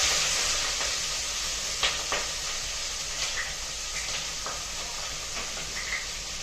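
Raw onions hit hot oil and spices, with cloves, in a pot for Mughlai biryani, giving a steady loud sizzle with a few faint clinks of stirring throughout.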